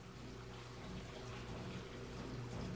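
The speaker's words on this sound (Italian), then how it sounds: "Sembrerebbe come una cascata. O forse... la lavatrice!" Steady rushing water, like a constant heavy flow or cascade, faint and continuous with a low hum underneath.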